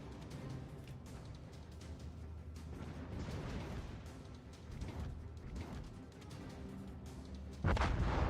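The battleship Mecklenburg fires its naval guns in a naval warfare video game, producing booming salvos over continuous engine and sea rumble, ending with one closer, louder heavy blast.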